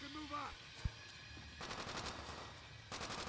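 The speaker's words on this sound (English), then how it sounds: "Besides one guy shooting." Gunfire rattles in World at War, coming in short, fairly faint bursts of rapid shots, with a voice briefly heard at the start.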